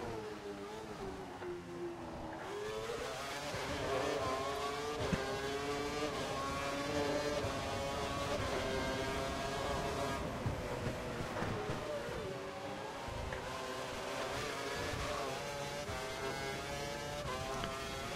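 A Formula 1 car engine howls through Monaco in F1 2012, a continuous high-revving whine that rises and falls with gear changes and braking, loud and close for the whole stretch with no talking.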